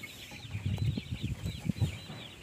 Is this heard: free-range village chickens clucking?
yes